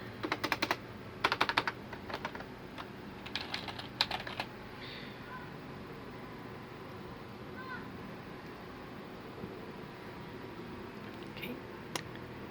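Key presses on a clicky Rakk gaming keyboard, V2 ROY version, come in scattered bursts early on and then thin out to occasional isolated taps over a steady low background hum.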